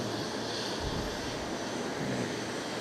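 Airliner taxiing into bay 10 at Fukuoka International Airport, a distant, steady jet engine whine and broadband roar mixed with wind buffeting, no voices.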